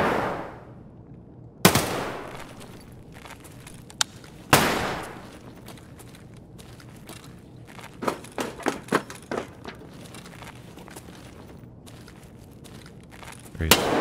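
Shotgun blasts in the video game Escape from Tarkov: two loud, sharp booms spaced a few seconds apart, then a quicker cluster of shots and another blast at the end, with a voice talking in between.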